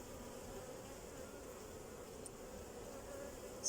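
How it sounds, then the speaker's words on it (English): A steady, faint drone of honeybees buzzing at an open hive while a colony is being split, with bulky drone bees among the workers; the hum stays constant and even throughout. "The big bulkier ones at the top are the drones, the male bees."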